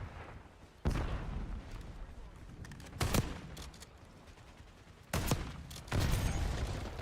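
Grenade launcher blasts in a Black Ops 6 match, several sharp, loud booms at irregular intervals with rumbling tails, standing out over a steady game background with no talk.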